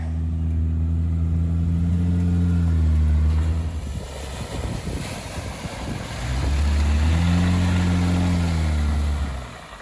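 An off-road vehicle crawls over a rocky mountain trail in New Mexico, its engine droning loud and steady, easing off midway amid crunching and wind buffeting, then surging back up.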